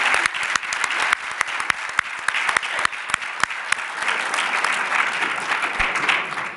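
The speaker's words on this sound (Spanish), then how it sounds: "Pido un fuerte aplauso para él por haber aceptado participar" An audience at a lecture on art criticism applauds the speaker, steady dense clapping with sharp individual claps standing out near the microphone, continuing evenly for several seconds.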